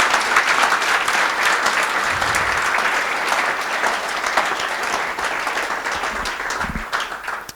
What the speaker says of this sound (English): Let's give one big applause to the hosts, to Runtastic, and to the speakers